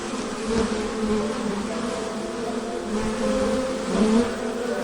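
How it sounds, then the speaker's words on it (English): A dense, steady drone of a swarm of bees pouring out of a broken hive, loud and close, with the hum swelling slightly toward the end. "The buzzing grew even louder as the bees left their destroyed home."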